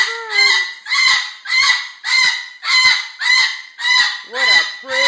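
Pet bird shrieking loudly in a steady series of about nine harsh, honking calls, roughly one every half second, close and alone with no talk.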